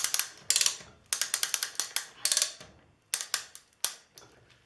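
A ratchet tensioning tool tightens a banding strap, giving off rapid bursts of crisp metallic clicks in uneven groups with short pauses between strokes, close and fairly loud with no talking.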